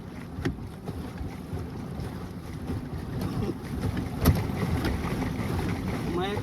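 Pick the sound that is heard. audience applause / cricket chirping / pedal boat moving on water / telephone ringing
pedal boat moving on water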